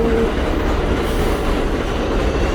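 A New York subway 7 train, Manhattan-bound local, pulls into an elevated station in Sunnyside, Queens, with a steady loud rumble of wheels on rail and faint clatter throughout, no voices.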